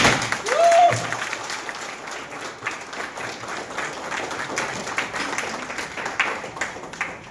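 A crowd claps at the launch of a TVS Ntorq 150 cc scooter, with a burst of applause that starts loud and then continues more raggedly, and a voice heard near the start.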